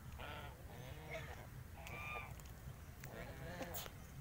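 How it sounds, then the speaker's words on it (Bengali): Ducks by a river quack and honk in short bursts, a few calls spaced over a few seconds, faint and somewhat distant over a low background hum. "ওই যে হাঁস গুলো আসছে"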